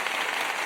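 Brief burst of applause in a podcast setting, a steady hiss of clapping hands with no voices over it.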